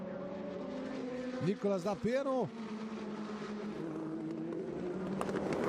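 Indy Lights race cars at Indianapolis, engines whining as two cars pass close by with sharp rising and falling pitch, under steady race commentary spoken in Portuguese.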